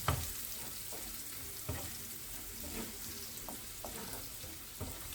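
Butter melting in a pan while being stirred with chili slices still to come, giving a steady low sizzle with occasional clicks of utensil against the pan over about five seconds, with no talking.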